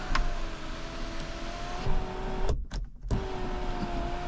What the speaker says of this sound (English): Test sunroof. So sunroof opens,